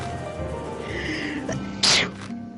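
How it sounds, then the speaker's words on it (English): One sharp, loud sneeze bursts out near the end, close to the microphone, after a stretch of quieter background sound from a podcast recording. "Oh man, I just sneezed all over my phone again."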